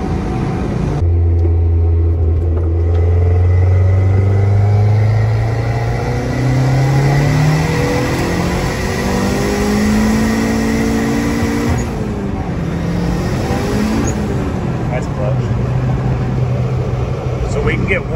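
A turbocharged Honda Integra engine revs hard on a tuning pull, its tone climbing loudly and steadily for several seconds, dipping, then rising again in a second sweep before settling into a lower drone.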